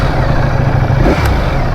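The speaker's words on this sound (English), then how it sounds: "This one, when you start, it seems to go like it revs a little bit" Engine of a 2025 Ducati Panigale V4 motorcycle, cold, running at a standstill with a steady low rumble and a brief rise in revs, close and loud with no talking.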